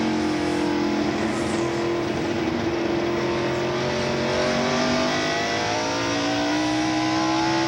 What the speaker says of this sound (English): Here is Dale Earnhardt coming up on Rusty Wallace and taking 4th